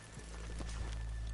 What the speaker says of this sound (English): the horses here off the main drag